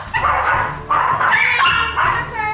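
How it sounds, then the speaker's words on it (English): A Yorkshire terrier and a Yorkshire terrier mix bark and yip in three sharp bursts, close by, with a whining edge between barks. "she has a Yorkie and a Yorkie mix and that their barking at everything is just"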